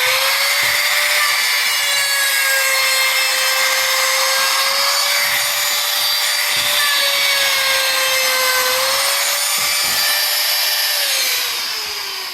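A power router guided by a jig cuts old window putty out of a frame, a loud, continuous high whine with a steady tone that dips slightly near the end, and no talking.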